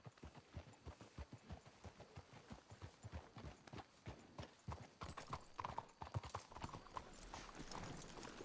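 Hooves clip-clop steadily in Red Dead Redemption 2 as horses walk at an even, rhythmic pace, faint and close, with a brief snort or low voice near the end.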